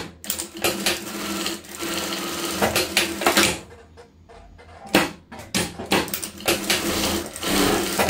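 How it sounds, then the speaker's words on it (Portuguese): A sewing machine runs in steady bursts as it stitches small fabric scraps together for a rug, whirring loudly with a brief pause midway and a few clicks before it resumes. "Vou fazer minha costurinha."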